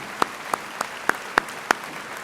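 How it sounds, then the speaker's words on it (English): At a college commencement ceremony, a handful of sharp, evenly spaced claps ring out one by one, about six distinct hits over a couple of seconds, rather than a full crowd ovation. "A round of applause for all the group who made this happen."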